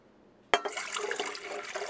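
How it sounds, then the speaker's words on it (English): Warm water pours into a stand mixer bowl holding foamy yeast, starting with a sharp splash and then running as a steady, close liquid stream. "Now I'm going to put it into my mixer, and I'm going to add another cup of warm water."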